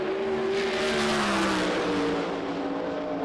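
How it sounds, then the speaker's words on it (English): A USAC Silver Crown race car at speed on the Springfield Mile dirt oval, a loud sustained engine roar with a pitch that slides downward as it passes, no talk over it. "As the number 10 car hits the racetrack"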